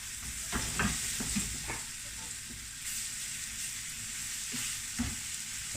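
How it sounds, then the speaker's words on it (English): Beef browning in a pan for stew sizzles steadily and quietly, with occasional scrapes and stirring knocks breaking through the continuous crackle and no voice over it. "That sizzles away nicely."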